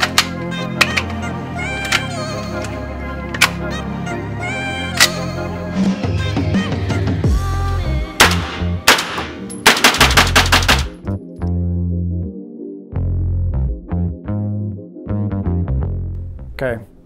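A firearm with a carbon fiber fore-end test-fired outdoors, loud sharp shots in quick bursts and rapid strings with ringing echoes, mixed with short pauses.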